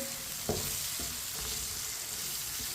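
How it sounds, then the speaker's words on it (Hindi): Red chilli powder and turmeric cooking in a pan for a potato sabzi, a soft continuous sizzle at low volume broken by a few light stirring taps and scrapes. "मसालों को मिक्स करके 1 मिनट के लिए पका लेंगे"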